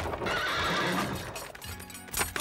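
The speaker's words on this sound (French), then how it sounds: "Arrêtez les chevaux!" Horses whinny loudly and close by in a cartoon scene, a long neigh followed by clip-clopping hooves and a second sharp whinny at the end.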